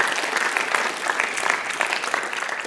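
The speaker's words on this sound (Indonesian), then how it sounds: "Berikan tepuk tangan buat Tuhan Yesus." A church congregation claps in steady, dense applause throughout, even and moderately loud, with no pause.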